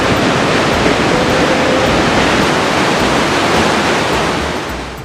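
River water races through a narrow marble gorge whose walls press to within a few metres, roaring as a loud, steady, broadband rush with no pauses and only a slight easing at the very end.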